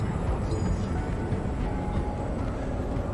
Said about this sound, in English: Oh, the train is actually here.